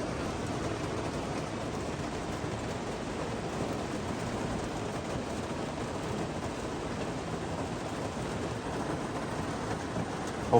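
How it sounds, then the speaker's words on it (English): Rain falls steadily on the roof of a parked camper van, a soft, even patter with a dense hiss and no pauses, fairly quiet from inside and free of talk. "We haven't got to the heavy rain yet, but it's raining pretty good"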